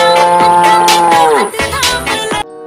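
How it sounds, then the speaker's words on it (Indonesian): A loud, close water buffalo moo, long and harmonic with a falling pitch, followed by several shorter grunting lows before it cuts off. "di sini ada seekor kerbau"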